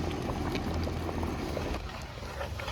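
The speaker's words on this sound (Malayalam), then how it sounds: "കഞ്ഞി നല്ല വെന്ത് വരുന്നുണ്ട്." Jeera kanji, a cumin-spiced rice porridge, bubbles steadily in a pot, a close, thick, continuous burbling with small pops and no voices.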